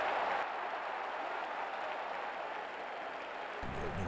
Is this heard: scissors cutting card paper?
no